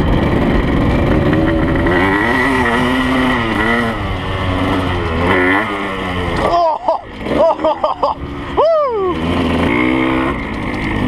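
A cold 1983 Yamaha IT175 two-stroke dirt bike engine runs steadily and close, then blips through several quick revs near the end before settling back to idle.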